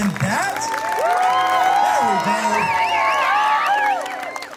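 Wedding guests clap, cheer and whoop after a speech, a loud crowd with shouting voices riding over continuous applause that swells then eases off.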